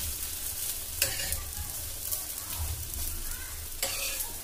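A bread omelette fries in a pan with a continuous close sizzle, broken by occasional scraping stirs.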